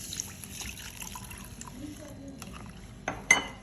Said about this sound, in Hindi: और इसमें मैं 1 गिलास पानी डाल दूँगी